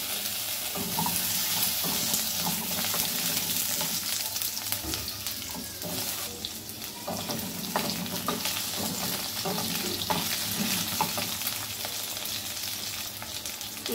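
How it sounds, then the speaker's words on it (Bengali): Potatoes frying in oil with cumin seeds in a pan on a home stove, a continuous loud close sizzle with scraping stirs throughout. "আলুগুলো ভেজে নেব।"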